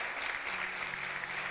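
A church congregation claps in a brief, dense burst of steady applause, moderately loud and without speech.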